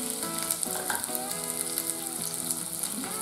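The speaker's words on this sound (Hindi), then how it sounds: "ऑयल गर्म हो चुका है और इसमें डालेंगे प्याज" Chopped onions and green peas sizzling in hot oil in a pan for Maggi masala, a steady bright crackling fry that runs continuously, with faint scraping of a spoon stirring.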